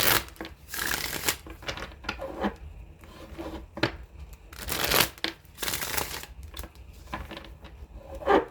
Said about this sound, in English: I'm just going to get a couple more shuffles on this.